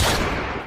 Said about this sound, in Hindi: फिर से गोली चली, जाओ देख कर आओ